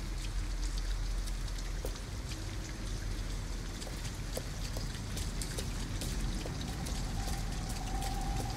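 Steady rain falls in the Detroit: Become Human video game, a dense, even hiss of drops pattering on surfaces with occasional louder splashes, continuous and fairly close, with no one talking.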